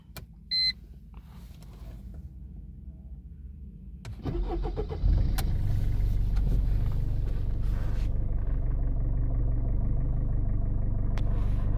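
A 2002 Mercedes-Benz C220 2.2 diesel starts after a few quiet clicks and beeps: a brief starter crank, then the engine catches and settles into a steady, close, low idle rumble.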